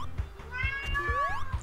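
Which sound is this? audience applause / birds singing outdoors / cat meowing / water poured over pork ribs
cat meowing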